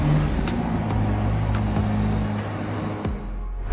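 A 3.9-litre twin-turbo V8 car engine with an 8-speed dual-clutch gearbox, revving with a loud, rough steady drone and a few sharp clicks before the sound drops away.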